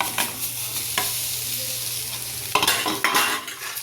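Flattened rice (poha) is stirred into sautéed onion upma in a hot pan, giving a constant sizzle with a low hum and occasional spatula scrapes against the metal, close up.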